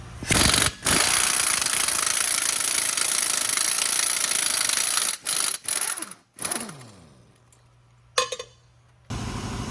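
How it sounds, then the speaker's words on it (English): Impact wrench with a 32mm socket removing a Ford Explorer front axle nut, loud sustained hammering rattle in long bursts with short pauses, then a winding-down whine and a final burst. "Get your 32mm socket. We're going to take this axle nut off."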